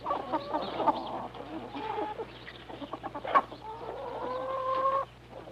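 Chickens kept by a family in a Nepalese village, clucking and squawking close by in a run of repeated calls with one longer drawn-out cry near the end, over a low steady hum.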